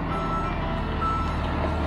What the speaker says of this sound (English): The boom truck has arrived